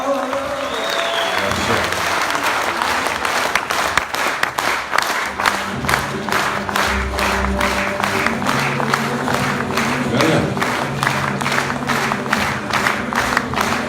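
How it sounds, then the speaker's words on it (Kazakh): Audience applause follows a verse at the Kazakh aitys final, a dense, continuous wall of clapping from a large crowd, loud and sustained throughout with occasional voices and cheers mixed in. "ағайын қоштасындар шапалақтап"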